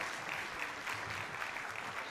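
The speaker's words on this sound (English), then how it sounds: "please, a big round of applause for the young researcher" Faint, distant applause from a conference audience at a health sciences university research event, a continuous soft patter of many hands for a couple of seconds.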